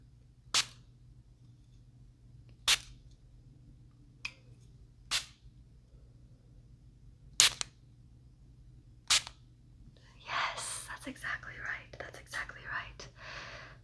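Several different spray bottles are sprayed one at a time up close, each giving a short sharp hiss with pauses between, followed by softer rustling and whispered speech.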